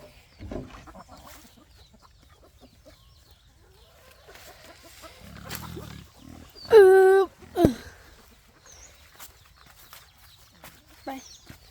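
Farm chickens cluck and a rooster-like call rises in a short loud burst midway, set against quiet rural background, while people talk intermittently nearby.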